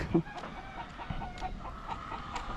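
A chicken clucking outdoors on a hot day beside a street, a few short soft clucks at moderate distance over low ambient noise, no speech.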